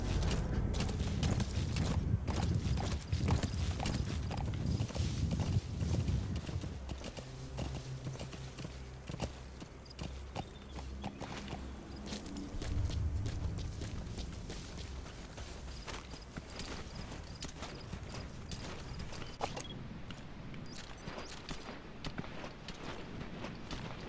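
Continuous clip-clop of horse hooves at a steady walking pace in Metal Gear Solid V: The Phantom Pain, fairly quiet, with mechanical creaks and rattles mixed in throughout.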